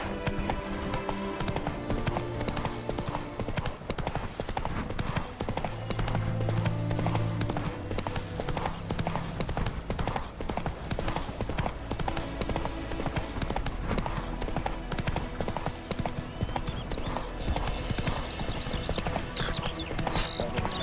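Roach the horse trots steadily in The Witcher 3, a continuous rhythmic clip-clop of hooves mixed with game ambience and music, with faint voices now and then.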